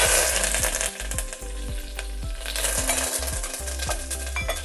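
Mustard seeds and cumin with curry leaves spluttering in hot oil while tempering for a brinjal buttermilk curry, a steady close sizzle broken by repeated sharp pops and low thuds throughout.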